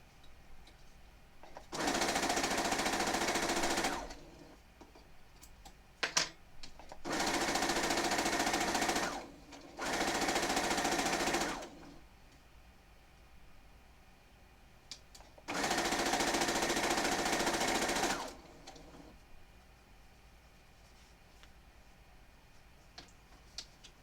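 A sewing machine stitches quilt fabric on a quarter-inch seam in four sustained motor bursts of a few seconds each, with short pauses between them and no talking.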